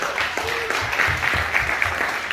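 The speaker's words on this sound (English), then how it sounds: "So if you guys can give yourselves a big round of applause." Audience applause at a Las Vegas magazine launch event, a steady wash of clapping from a crowd in a hall, with some talk briefly under it.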